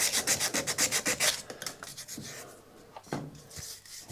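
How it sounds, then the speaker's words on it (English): An abrasive is rubbed against a rusty DC dynamo shaft, first in quick, even back-and-forth strokes, then slowing to a few scattered scrapes, close and moderately loud with no talk. "I'll take some of the rust off the shaft first."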